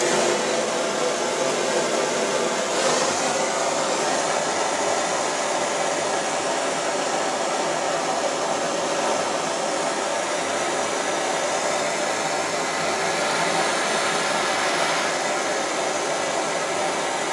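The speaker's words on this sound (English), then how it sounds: "So I'm just using the point of the bright blue flame, which is the hottest bit" Blowtorch with a bright blue flame heating a metal disc while making combat robot wheels: a steady, close, continuous hissing roar that holds at an even level throughout.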